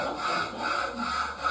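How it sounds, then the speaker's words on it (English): Steady rhythmic sawing through wood, rasping strokes back and forth at a moderate distance, with no voices. "Somebody's in there sawing."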